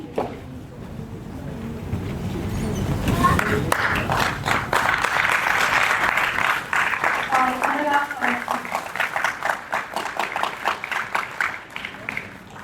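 An audience breaks into loud, sustained applause, with dense clapping building and holding steady for several seconds at a gathering, while a voice speaks over it near the start.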